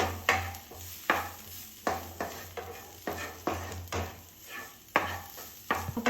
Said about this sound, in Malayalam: ഇത് ഒന്നുകൂടി മിക്സ് ചെയ്ത് കൊടുക്കാം കേട്ടോ.